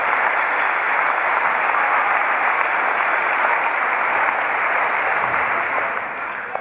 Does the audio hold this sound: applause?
yes